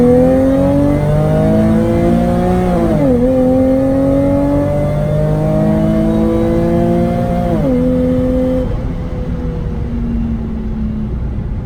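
Whipple supercharged Nissan 370Z pulling from a 25 mph roll, loud engine note rising steadily through the revs with two clear upshifts, then easing off into a fading drone.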